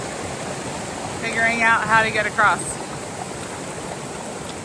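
Comer Creek Falls, a waterfall on a trail stream, gives a steady rushing wash from start to finish, with people talking briefly over it in the middle.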